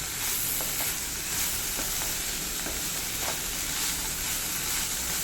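Green beans stir-frying for a Kerala mezhukkupuratti sizzle steadily in a pan, with soft scraping strokes of a stirring spoon recurring through the close, continuous hiss.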